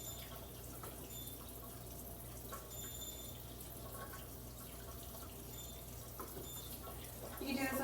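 Tap water runs steadily over freshly air-fryer-toasted nuts to cool them, a continuous splashing rush into a sink, fairly quiet and even throughout, swelling slightly louder at the very end.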